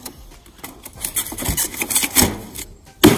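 A concrete formwork block being slid into its rail, giving scraping, rasping friction sounds with irregular bursts and a sharp knock at the end as it seats.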